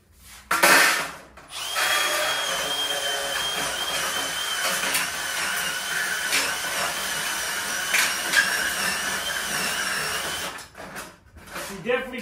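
A drill fitted with a shears attachment cutting through material, a loud continuous motor whine with a chattering edge that runs about nine seconds before stopping, close by, with no talk.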